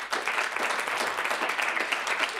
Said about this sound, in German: die Schülerinnen und Schüler, die diese Sendung hier möglich machen, und das MIZ haben nochmal einen besonderen Applaus verdient.